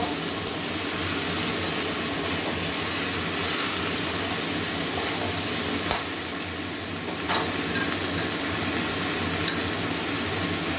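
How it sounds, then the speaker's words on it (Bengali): Katla fish head and ash gourd curry with spices being stirred in a pan, a steady close scraping and soft sizzle running continuously without pause. "ভালো করে মশলার সঙ্গে মিশিয়ে নেব"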